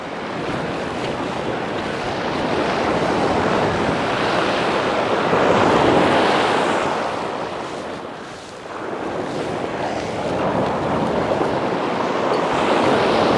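Waves break and wash onto a beach as the tide begins to ebb, a loud continuous surf roar that swells and briefly dips before surging again, with wind noise mixed in and no voices.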